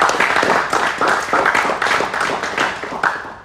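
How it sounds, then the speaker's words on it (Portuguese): Men in a congregation at a priest's homily for young World Youth Day pilgrims clap together, a brisk, fairly even rhythm of crisp, moderately loud claps filling the room. "Homens, batem palmas."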